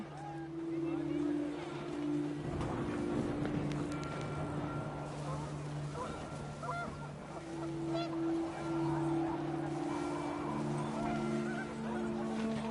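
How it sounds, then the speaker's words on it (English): Panicked geese in the game What Remains of Edith Finch honking in repeated nasal calls over wind and a low ambient drone, fairly close and sustained. "The wind picked up, and panicked geese appeared and quickly went."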